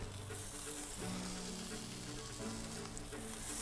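Burger patties sizzle on a grill with a constant close crackling hiss, while low tonal background sounds come and go.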